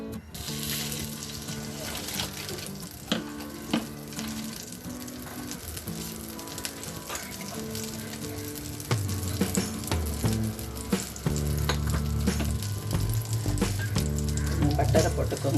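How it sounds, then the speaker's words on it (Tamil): Butter and oil sizzle and crackle in a pan for pav bhaji, a close, continuous fizzing frying noise with occasional clinks and stirring, growing a little louder toward the end while background music plays. "பட்டரை போட்டுக்கோங்க. கொஞ்சமாக எண்ணெயை ஊற்றிக்கோங்க."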